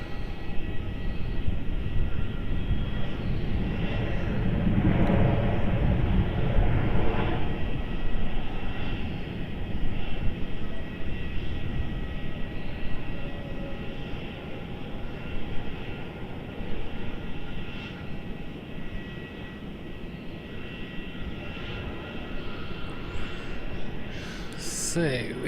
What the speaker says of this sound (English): So we have Jetstar lining up now.